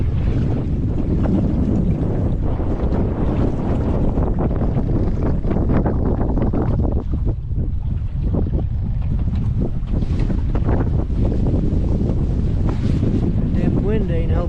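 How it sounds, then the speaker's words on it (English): Strong wind blows across the microphone during a boat ride on the water at Hoover Dam. The loud, continuous buffeting roar lasts throughout, with faint voices underneath. "Damn wind ain't helping us at all."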